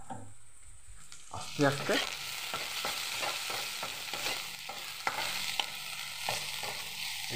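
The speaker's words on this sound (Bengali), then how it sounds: "এটাকে ভাজবো, ব্রাউনি করব।" Chopped onion frying in a pan for a pumpkin-leaf fritter dish, sizzling steadily with repeated stirring scrapes and clinks, close and fairly loud, with a brief spoken phrase early on.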